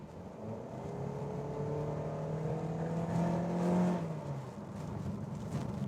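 A 2019 Honda HR-V with a CVT accelerating at full throttle, a steady engine drone rising in pitch with stepped faux gear changes, heard from inside the cabin.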